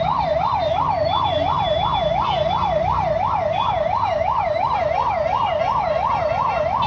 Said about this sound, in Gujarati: એક એમ્બ્યુલન્સ આવી છે બે જો બે એમ્બ્યુલન્સ ની ગાડી